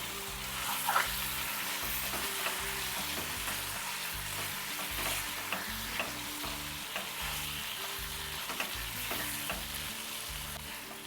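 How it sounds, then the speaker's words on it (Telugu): Chicken added to fried onions sizzles in a pan for a home-style chicken curry, a steady crackling fry with occasional stirring scrapes and clinks throughout, close and moderately loud, with no talk. "జస్ట్ ఆనియన్స్ ఫ్రై అయ్యాక చికెన్ వేస్తున్నాను నేను అందులో"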